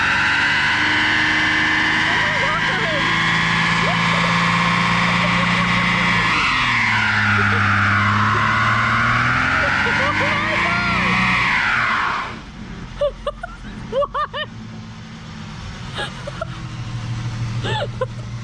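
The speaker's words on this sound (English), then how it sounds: "Yeah, these Mustangs do pretty good burnout. It did a really good burnout." A Mustang drag car revs hard through a loud, sustained burnout with screeching tire spin and engine pitch rising and falling, then cuts to idle with a few short throttle blips and people talking nearby.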